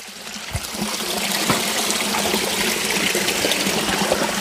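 Water trickles and flows steadily outdoors in a forest setting, a continuous close splashing wash with a few small knocks, no voices.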